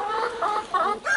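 Roosters give short clucking calls, a few quick bursts in close succession, loud and near, with no talk.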